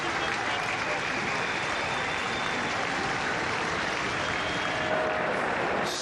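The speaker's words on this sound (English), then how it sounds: "A massive crowd at Rosehill Gardens to see a champion." Large crowd at Rosehill Gardens racecourse roaring and applauding at a horse race, a steady dense wash of cheering and clapping throughout with no pauses.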